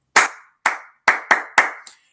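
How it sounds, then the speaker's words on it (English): Sharp, crisp hand claps, five in a quick rhythmic pattern followed by a softer sixth, each one close and loud with a brief ringing decay in a quiet room. "sometimes I'll do something as simple as a clap"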